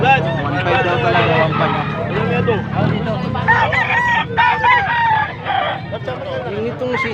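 Rooster crowing amid a crowded live gamefowl auction, several crows and clucks mixed under continuous chatter and auctioneer talk.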